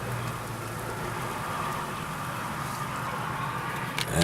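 Rain falling on a parked car during a windy, cold storm in Cal-Nev-Ari, Nevada, a steady close hiss of drops with a louder patter building at the very end.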